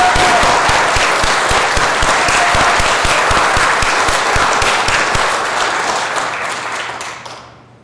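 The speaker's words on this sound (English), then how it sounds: "How about a round of applause to kick things off?" Loud, dense round of applause from a crowd at the NASDAQ closing bell ceremony during Internet Week New York, sustained and energetic before fading out toward the end.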